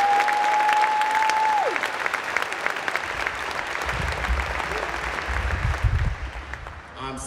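A large audience at a 2021 high school commencement ceremony applauds the graduating class: loud, sustained clapping and cheering fill the whole stretch, while a brief electronic tone sounds early on.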